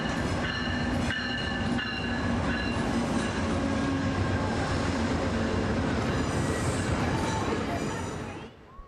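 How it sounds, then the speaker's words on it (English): A passenger train rolls past nearby, a steady loud rumble of wheels on rails with metallic squeals and rhythmic clatter from the cars, fading slightly at the very end. "here's a video clip about passenger trains"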